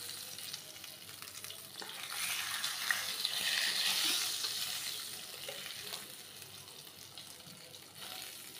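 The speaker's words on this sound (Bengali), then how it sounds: "আর এই যেখানে টমাটো কষাইতেছি তো মাছ দেওয়ার জন্য, আমার টমাটোটা কষানো হয়ে গেছে" Tomatoes sizzle and fry in a pan while being sautéed down as the base for a fish curry, a steady close hiss with light stirring that swells in the middle and then eases, with no talk.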